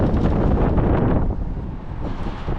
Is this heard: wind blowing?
yes